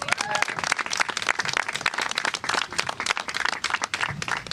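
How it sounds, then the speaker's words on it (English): An audience claps for a woman, a lively, dense round of applause with sharp individual claps standing out, sustained and fairly close throughout. "give her a big round of applause"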